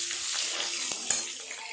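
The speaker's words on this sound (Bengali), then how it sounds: "একটা পেঁয়াজ আমি এইরকম বড় বড় করে টুকরো করে নিয়েছি, তেলের উপরে দিয়ে একটু ভাজা করে নেব।" Large onion pieces fry in hot oil with a close, continuous hiss, broken by a few light taps of stirring over less than two seconds, and no one speaks.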